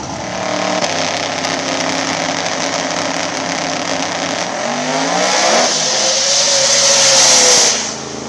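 Outlaw small tire radial drag racing car engine at Thunder at the Rock, a loud sustained roar with rising revs and a harsh buzzing edge, held steadily close by before cutting off near the end.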